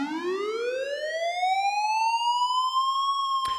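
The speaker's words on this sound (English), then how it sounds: "envision a siren going by left to right or something like that" Synthesized police-style siren built in the Vital synth, a single loud tone sweeping steadily upward and sustaining as it pans from left to right, with bright layered harmonics and no talking.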